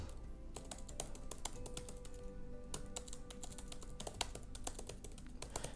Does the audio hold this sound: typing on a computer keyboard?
yes